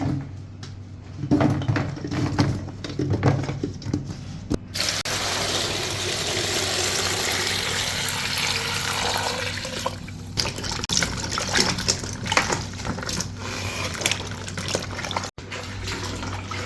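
Water runs steadily from a tap into a bucket to wash raw mangoes for Rajasthani pickle, a continuous close gushing fill with a few brief clatters near the start.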